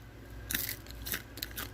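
A few crisp crunching bites into macaroni cracklings, three or four sharp crackles close to the mic, with quiet chewing in between and no talking.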